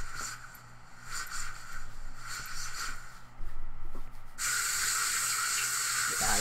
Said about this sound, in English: I'll take a shower.